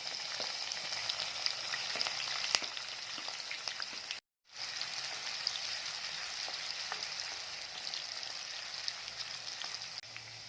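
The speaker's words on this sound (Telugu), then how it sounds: "ఇవి లైట్గా బ్రౌన్ కలర్ వచ్చేంత వరకు వేపుకోవాలి" Garlic and green chillies frying in a pan give a steady hiss and crackle with scattered pops, close by, broken by a brief silent gap partway through.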